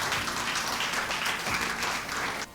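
A church congregation claps during a sermon, loud dense applause filling the room and stopping abruptly at the end.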